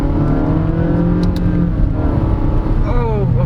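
A 2023 Honda BR-V MPV accelerating hard, its engine note loud and steady from inside the cabin with a rising, revving drone throughout and a brief climbing whine near the end.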